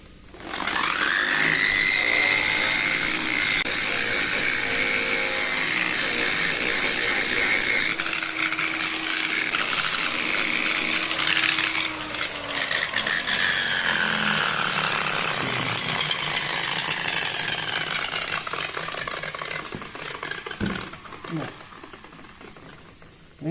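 A loud, steady power sander with 60-grit sandpaper grinds against stone, a continuous abrasive whine that shifts in pitch as the tool moves across the surface.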